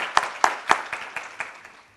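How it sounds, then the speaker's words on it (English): A handful of separate claps from a small audience at a community event, a few sharp loud ones at first and then sparser, fading strikes over two seconds, with no talking. "Please give her a big round of applause."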